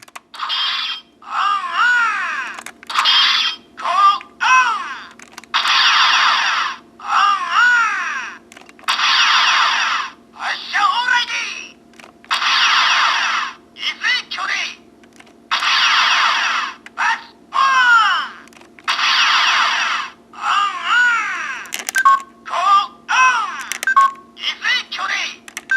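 An Engine-Oh Go phone toy plays a long run of bright electronic beeps and chirpy jingles after its buttons are pressed, loud, close and choppy, with short gaps between the sound bursts.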